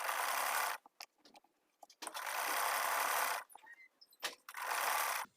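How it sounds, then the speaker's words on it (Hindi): A sewing machine stitches lace onto a shirt in three loud, steady whirring runs separated by short pauses filled with faint clicks and handling of fabric, close up. "पहले वाली सिलाई के ऊपर ऊपर ही सिलाई लगानी है"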